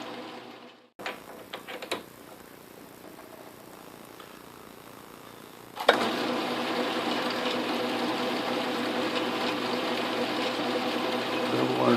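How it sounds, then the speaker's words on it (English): An Atlas/Craftsman metal lathe chamfers a nut with a chamfer bit: a quiet motor hum with a few clicks, then a sudden louder steady grinding whir as the bit engages, close and continuous. "So we will come in with the chamfer bit."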